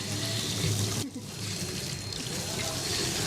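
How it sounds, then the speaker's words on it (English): Running water in a campsite washroom building at the British Grand Prix, a steady pouring and trickling stream, close and continuous, briefly dipping before resuming. "Running water in an actual established building is actually really nice to have"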